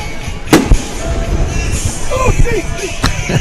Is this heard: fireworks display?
yes